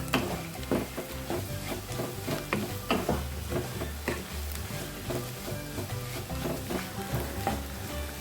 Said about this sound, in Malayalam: ഇതെല്ലാം കൂടെ ഒന്ന് മിക്സ് ചെയ്ത് കൊടുക്കാം